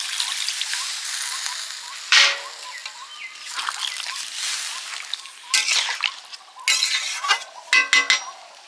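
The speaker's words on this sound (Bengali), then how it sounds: "রাখা এঁচড় আলু জল দিয়ে দিলাম" Water poured into a pot of jackfruit and potatoes, with splashes and trickling alongside metallic clinks and stirring of utensils against the pot, in bursts of varying loudness.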